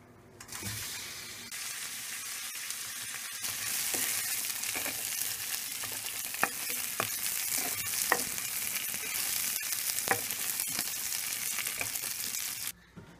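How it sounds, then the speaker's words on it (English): Shrimps and garlic sauté in a hot pan with a steady, close sizzle that runs the whole time, broken by a few sharp clicks of a utensil against the pan. "Saute the shrimps with garlic."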